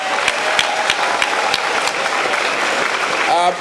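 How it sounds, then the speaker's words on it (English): A crowd at a school dedication ceremony claps in a steady, dense round of applause, fairly close and loud, with no voices over it. "Let's give them a round of applause."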